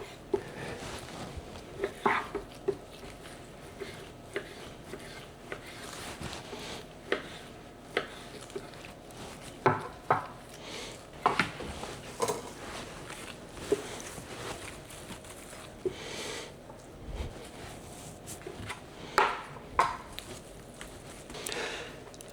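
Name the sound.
knife cutting fat off beef and cubing meat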